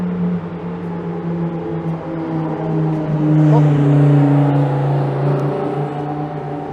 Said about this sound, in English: I'm surprised that's only the second supercar we've seen on this walk.